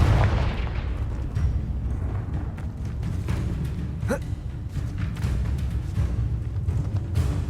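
The Confringo fire-blast spell in Hogwarts Legacy sets off a rumbling explosion inside a constant heavy wash of booming battle noise, with a brief sharp whoosh near the middle.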